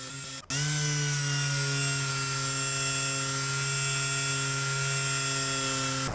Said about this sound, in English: we're just gonna go ahead and sand. This is 400 grit